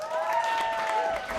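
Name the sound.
audience applause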